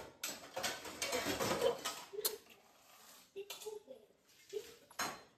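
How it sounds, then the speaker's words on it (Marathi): Pots and dishes being scrubbed by hand with Vim gel in a home kitchen, close rubbing and scouring with intermittent clinks and clanks of metal utensils, while someone talks. "तर भांडे घासते मी."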